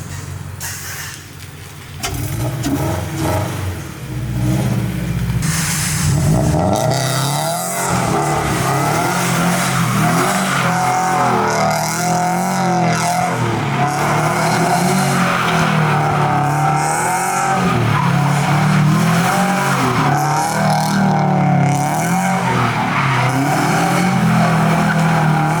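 A car drives hard, its engine revving loud and close over a continuous roar, with tire squeal and skidding mixed in across a sustained stretch and no talk.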